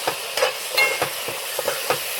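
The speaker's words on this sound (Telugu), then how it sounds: "అల్లం వెల్లుల్లి పేస్ట్ అంతా దీన్ని బట్టేటట్టుగా కలుపుకోవాలి" Spices, curry leaves and ginger-garlic paste are stirred in a hot frying pan for a silver fish curry with tamarind leaves. A spoon scrapes in a quick, uneven rhythm over a soft sizzle, close and fairly loud, with no talk.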